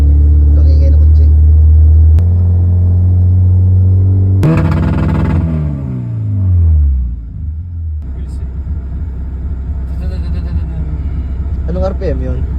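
A car fitted with an aftermarket side-exit exhaust holds a loud, deep idle drone, then revs sharply to about 5000 RPM and falls back to a rumbling idle, close up, with brief voices over it.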